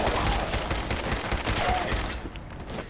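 Gunfire in Fallout 4 at the Corvega Assembly Plant rattles out in a dense, loud burst of rapid shots while ghouls are fought, easing off slightly near the end.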